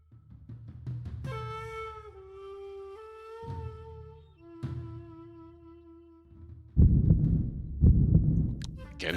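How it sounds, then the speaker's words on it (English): Heartbeat effect from the video game AI: The Somnium Files, a low throbbing pulse under sustained musical tones, joined near the end by a louder rumbling swell. "Again, the heartbeat."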